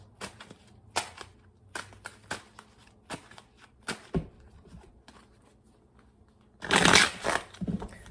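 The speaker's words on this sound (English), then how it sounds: "I'm going to do three major shuffles." Tarot cards being shuffled by hand: a series of sharp, close riffles and taps at irregular intervals, then a louder, longer riffle near the end.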